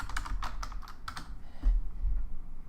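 Keys clack on a computer keyboard in quick, uneven bursts of typing, close and clear, then fade into quiet handling noise.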